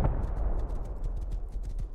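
Steady clip-clop of horse hooves trotting in a hardcore survival video game over a low rumbling background, an even rhythm of hoofbeats with no voices.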